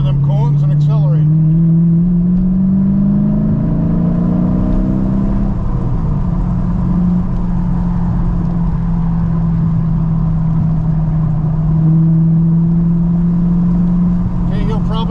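A car accelerates hard on a track day, its engine note climbing in pitch then holding a loud steady drone close to the microphone, with a driving instructor's voice talking over it.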